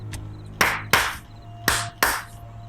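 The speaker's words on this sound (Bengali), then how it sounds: "কর্তা আবার দুইবার হাততালি দিল।" A man claps his hands sharply, close and loud, the claps arriving in two pairs with a short gap between them over a low steady hum.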